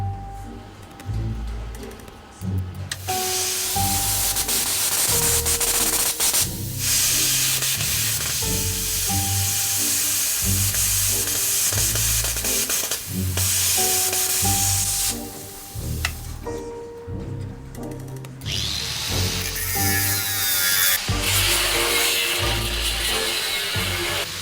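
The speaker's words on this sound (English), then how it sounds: "Plan B, I'm going to try my plasma cutter and see what that does." A plasma cutter slicing through very thick steel in a repair workshop, a loud continuous hissing roar that runs almost throughout, with a few short breaks and tonal hums from the arc.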